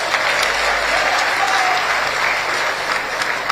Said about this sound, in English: Please, can we give him a round of applause?